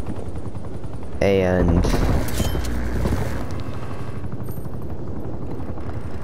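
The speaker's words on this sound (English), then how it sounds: "my attack helicopter is doing a lot of damage." An attack helicopter fires in the Call of Duty Cold War video game, a loud sustained roar of rotor and gunfire mixed with dense explosions and game effects, with a short voice heard briefly.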